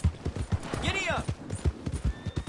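A horse galloping in Red Dead Redemption 2, rapid rhythmic hoofbeats pounding close throughout, with a whinny and a brief voice cutting in partway.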